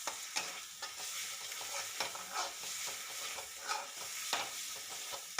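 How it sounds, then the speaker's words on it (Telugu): Spice paste fries in oil for chicken curry with a dense, crackling sizzle, while a spoon scrapes the pan in repeated strokes, nearby and without talk. "పేస్ట్ వేసి ఫైవ్ మినిట్స్ బాగా వేయించుకోవాలి ఆయిల్ పైకి వచ్చే వరకు బాగా వేయించుకోవాలి"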